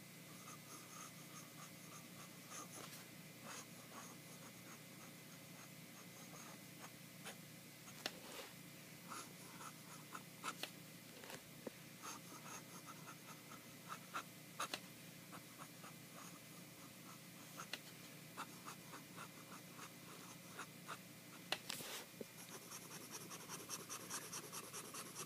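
A Nakaya Neo Standard Heki-tamenuri fountain pen writes on Clairefontaine paper, giving faint, close scratchy nib strokes and small ticks in an irregular rhythm over a quiet background.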